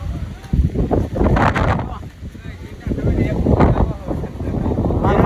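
Strong wind on Girnar mountain buffets the microphone in loud, gusty, irregular rumbles that rise and fall across the whole stretch.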